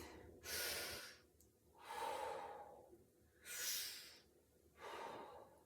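Four slow, deep breaths during a stretching exercise, each a long airy inhale or exhale, close and soft, spaced evenly with quiet pauses between and no talking.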